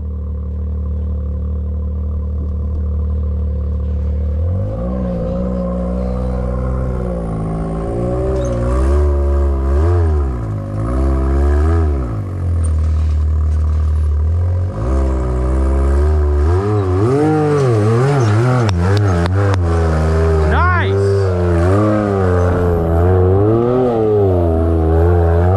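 A UTV buggy climbing the Widow Maker rock trail in Moab, its engine revving hard in repeated surges and falling back, loud and close, with clattering from the drivetrain and no talk.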